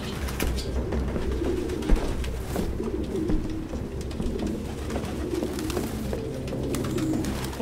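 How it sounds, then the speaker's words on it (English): Pigeons coo steadily in soft, repeated low calls against a humming indoor ambience in the video game Detroit: Become Human, with no speech. "The fucking pigeons."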